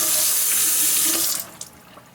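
Kitchen tap water running hard to wet a rice musubi mold, a close steady rushing splash that cuts off partway, leaving a few faint drips and clatters.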